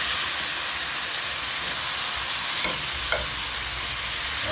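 Chicken back fries in hot curry-flavoured oil for a Jamaican curry chicken dish, giving a steady, even sizzle and hiss throughout with a couple of faint clicks partway, no voices over it.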